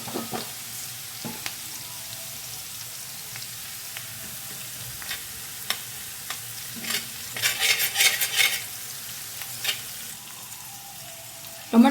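A teaspoon of cumin seeds fries and crackles in a pan for pav bhaji, with light stirring scrapes and a burst of louder sizzling partway through, close and without talk.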